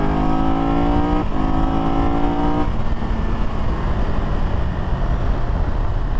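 A 2022 Triumph Tiger 1200 GT Pro motorcycle engine revs up with a steadily rising tone for about two and a half seconds, then gives way to a loud, constant rush of wind.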